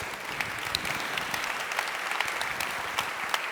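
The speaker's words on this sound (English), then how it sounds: "it's an applause to you" Steady audience applause at a talk on Charlottesville's response to white supremacist violence, a dense even patter of many hands clapping throughout, fairly close and full, with no voices over it.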